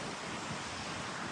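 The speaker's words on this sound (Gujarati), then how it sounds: "અમે લોકો જો પાણીથી એકદમ નજીક છીએ, પણ તોય આમ મસ્ત ઠંડો પવન હોય" A cool wind and waves wash in at a beach at sunset, close to the water, as a faint, steady broadband rush of surf and wind buffeting the microphone.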